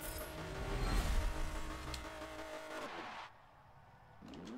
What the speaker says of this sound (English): What kind of an engine sound is that?